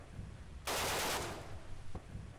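Gunfire in the WWII shooter Red Orchestra: Ostfront 41-45: one loud, dense burst of automatic fire lasting about half a second, then a single sharp shot, over a low rumbling background.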